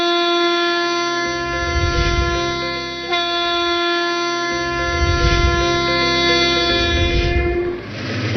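An Indian Railways freight train rolls past on a dedicated freight corridor, its horn sounding in long sustained blasts over a steady rumble of wagons, loud and close throughout.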